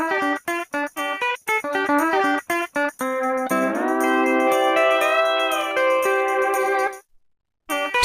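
A voice imitates a tow truck with a string of short, choppy vocal bursts, then a long, sustained, wavering engine-like drone that rises slightly before cutting off into silence near the end.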